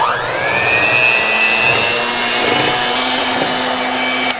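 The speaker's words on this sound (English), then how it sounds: "we're just going to use a mixer to beat until it is fluffy and it doubles in size" An electric mixer whirs continuously at close range while beating a potato mixture until fluffy, its pitch rising slightly as it spins up, then cutting off at the end.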